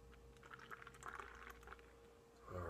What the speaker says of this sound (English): So let's pour it in the Hop Slam glass.